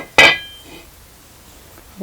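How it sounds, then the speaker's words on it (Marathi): A metal tava griddle clanks down onto a wood-fired chulha stove, one sharp ringing metallic hit followed by a quieter scrape and another soft knock near the end. "त्यासाठी आपण चुलीवरती तवा ठेवूया"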